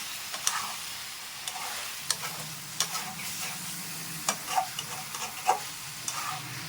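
Chicken pieces frying in a masala gravy, with a steady sizzle under repeated scraping stirs and clicks of a spoon against the pan, close and moderately loud, no talking.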